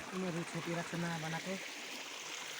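A mountain stream murmurs in a steady, close wash of flowing water, while a voice sings or chants over it during the first part and then stops.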